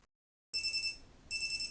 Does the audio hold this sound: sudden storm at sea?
no